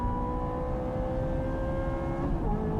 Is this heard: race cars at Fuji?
yes